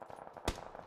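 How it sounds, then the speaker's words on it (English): A single sharp M24 sniper rifle shot in the PUBG video game, a quiet distant crack with a short tail, set against faint low background noise. "The guy's shooting an M24."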